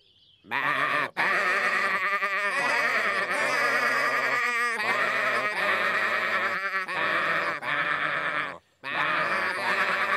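Cartoon sheep choir bleating a gospel song, sustained harmonized baa-ing voices singing in tune, loud and continuous with a couple of short pauses.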